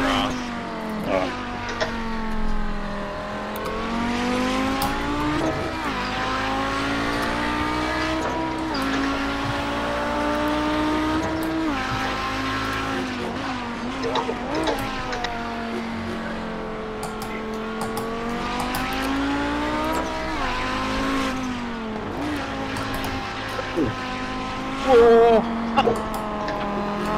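A racing car drives around the Okayama circuit in a video game, its engine droning and shifting pitch through the laps with revs rising and falling, while people talk over it throughout.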